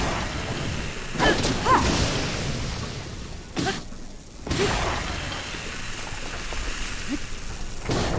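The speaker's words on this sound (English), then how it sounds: "Rain, probably." Rain falls steadily in Zelda: Breath of the Wild, a continuous hiss with a few duller thumps and rumbles mixed in and no talk.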